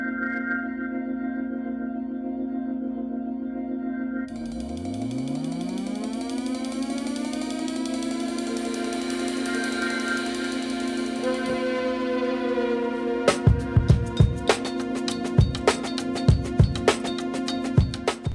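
A Bambu Lab X1-Carbon 3D printer runs with a steady whining motor hum and sweeping pitch changes, then breaks into rapid clicking and ratcheting taps over its continuous drone.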